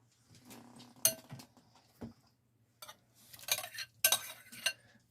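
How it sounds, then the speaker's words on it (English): Softened vegetables stirred in a metal pot, a spoon knocking and scraping against the sides in scattered clinks and clatters, with a few louder strikes and quiet pauses between, close and without talk. "Give them a good stir"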